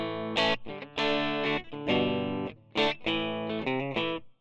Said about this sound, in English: Then if I bring the gain down, you're going to get a cleaner sort of sound.